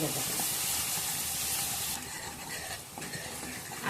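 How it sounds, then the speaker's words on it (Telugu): Ginger garlic paste fries in a pan with turmeric while being stirred, a steady close sizzle and hiss that eases slightly partway through, with faint background talk. "కలుపుకొని మంచిగా కలుపుకుంటూ ఫ్రై చేసుకోండి అల్లం వెల్లిగడ్డ అనేది"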